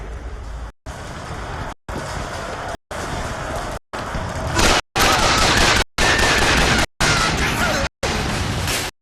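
Enemy gunfire in BioShock Infinite, repeated loud bursts of rapid shots broken by short silent gaps, growing louder and denser partway through, with no talking.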